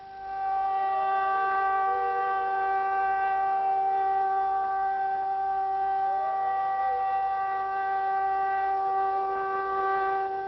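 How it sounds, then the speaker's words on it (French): A siren sounds at sunset to mark the end of the fast, a steady, sustained tone holding at an even pitch throughout, loud and continuous with only slight wavering. "la sirène retentit comme une alerte"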